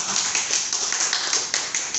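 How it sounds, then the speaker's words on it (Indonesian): Audience clapping: a small group's sparse, slightly uneven claps repeat at roughly a quarter-second pace over a quiet background, fairly close. "Tepuk tangan dulu dong untuk Nagaya."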